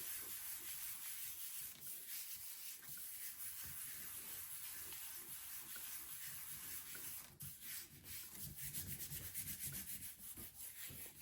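Fingers and palm rubbing paper down over a gel printing plate around masks, a faint continuous soft scuffing and hissing friction with irregular strokes, no talk.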